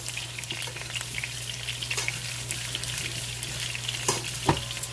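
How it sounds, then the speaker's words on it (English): Rice browns in half a stick of butter in a skillet, crackling with a dense, even sizzle and a few faint pops, close by, with no one talking. "Half a stick of butter. And just let it brown in the skillet."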